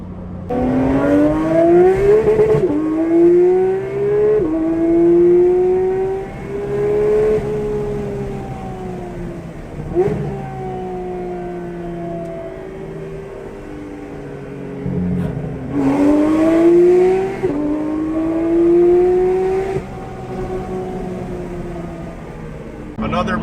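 A Porsche 992 GT3 fitted with a Dundon exhaust and PDK gearbox revs loudly and up close, climbing through repeated pitch sweeps in a couple of long bursts with falls and pauses in between.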